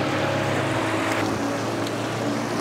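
A boat motor running at sea off North Bay in the Andaman Islands, a loud continuous engine drone mixed with water and wind rush, steady throughout with no voices.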